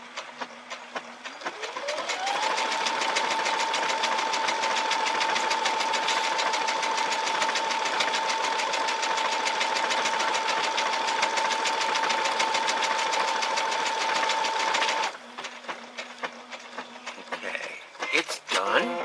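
A Brother SE630 sewing and embroidery machine sews a stitch. Its motor whirs up, runs with a steady, loud whine and rapid needle chatter for several seconds, then winds down.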